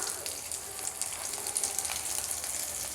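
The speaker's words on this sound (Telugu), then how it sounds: "ఇలా అన్నీ పెట్టి ఫ్రై చేసుకోవాలి రెండు వైపులా" Wheat chakralu snacks frying in hot oil, giving a steady, close crackling sizzle that runs unbroken for a few seconds at a moderate level.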